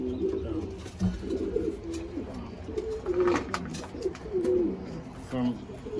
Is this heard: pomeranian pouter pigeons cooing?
yes